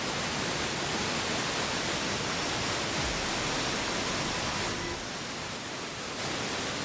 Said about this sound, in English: Is that just the fountain going off?